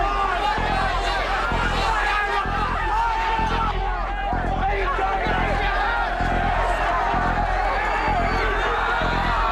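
Crowd noise from the 2006 Cronulla riot, a dense roaring mass of voices with shouts and whoops rising over a steady loud hubbub for the whole stretch.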